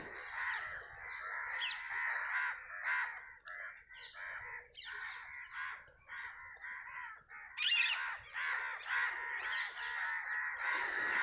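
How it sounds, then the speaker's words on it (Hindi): Crows caw repeatedly in a rough, rhythmic series on a village outskirts road, loud and close, with other birds chirping faintly behind and no talking. "ये कौवे उड़ गए।"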